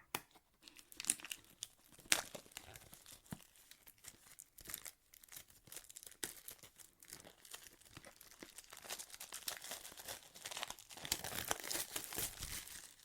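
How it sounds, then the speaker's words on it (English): Plastic wrap being torn and peeled off a newly unboxed Blackview HERO 10 Flip phone, with close, continuous crinkling and crumpling broken by sharp tearing bursts. "let's see if I can find where to tear the plastic off"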